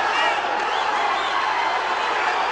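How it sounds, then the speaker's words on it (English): A mixed martial arts arena crowd on its feet, roaring and cheering in a dense, steady wash of noise, loud and unbroken across the moment. "The crowd on their feet."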